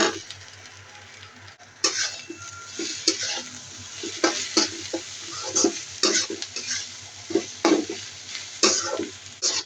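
Kalai shak greens stir-fried in a pan, quiet sizzling broken by repeated irregular scrapes and clatters of a utensil against the cookware, growing busier after a few seconds.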